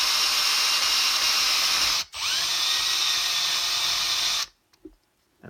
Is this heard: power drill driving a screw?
yes